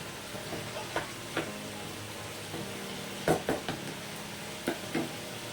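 Bottle gourd, still wet with water and cooking with prawns for lau chingri, gets stirred in a pan, a faint simmering hiss broken by several soft spatula knocks and scrapes, close by with no voices.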